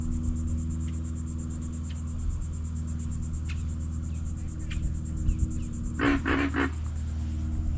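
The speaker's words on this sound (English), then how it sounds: "Got a couple of big frogs in there." A few raspy croaks from big frogs in quick succession near the end, over a constant background of chirring insects and low rumble, at Black Point Wildlife Drive.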